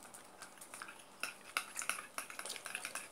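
A spoon stirs homemade slime in a bowl, giving soft irregular clinks and sticky scrapes that come in quick clusters, faint and close, with no talking.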